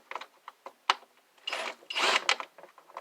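Close, small metallic clicks, scrapes and ratcheting squeaks from a screwdriver backing screws out of a vintage CRT TV during scrapping, in short irregular bursts with a couple of longer grinding turns.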